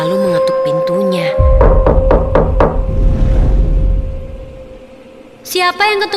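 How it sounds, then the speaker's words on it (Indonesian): Several sharp knocks on a wooden storeroom door come in a quick run of about five raps, loud and close, with a voice narrating before and a tonal radio drama music cue around them. "Aku lalu mengetuk pintunya."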